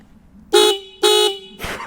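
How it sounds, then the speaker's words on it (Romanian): Dual horns on a Dualtron Thunder electric scooter blare twice, loud and close, two long honks about half a second apart, followed by a shorter, harsher burst. "Și piesa de rezistență sunt cele două claxoane care sună fenomenal."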